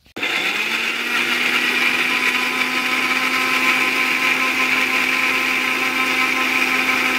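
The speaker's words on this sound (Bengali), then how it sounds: "এখানে জিরা এলাচ গুঁড়া করে দিলাম" An electric grinder whirs loudly and continuously, grinding cumin and cardamom into powder for iftar cooking in a village home. It starts abruptly and holds a steady, high-pitched motor drone with no one talking.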